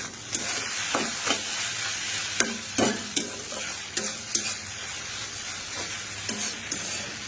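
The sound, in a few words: Maggi noodles being stir-fried in a pan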